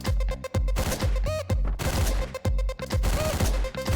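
Gunfire in the top-down game Hotline Miami: loud, rapid bursts of shots packed across the whole span over an urgent electronic soundtrack, with almost no pause between blasts.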